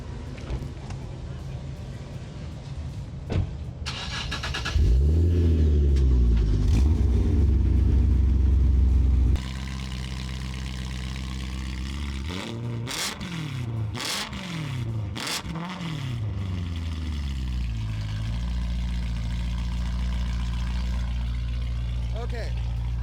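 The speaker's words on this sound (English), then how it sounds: "here we go with the little exhaust note here" Tuned BMW running on E85 fuel, revving repeatedly up and down in sharp, rising and falling sweeps, loud and close, with a heavy rumbling idle between bursts and some talking at points.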